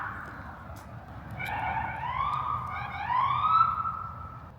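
Wailing sirens of emergency vehicles rise and fall, overlapping as they grow gradually louder, heard from a moderate distance over low traffic hum.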